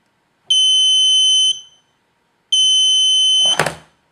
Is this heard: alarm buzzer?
yes